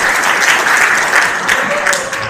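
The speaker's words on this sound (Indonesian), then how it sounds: "Tepuk tangan untuk Mas Aloy." At a university workshop, an audience bursts into brief, dense clapping, steady and fairly loud throughout.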